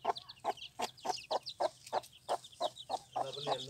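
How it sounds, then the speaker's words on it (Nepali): Two-day-old chicks in a handmade bamboo basket chirp in a quick, regular series of sharp peeps, about a dozen in close succession, fairly near and moderately loud. "यो 2 दिनको चल्लाहरू छ यसमा"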